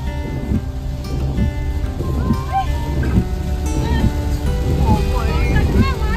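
Heavy rain drums steadily on a car driving through Tamhini Ghat, a constant close patter beneath people talking inside the vehicle.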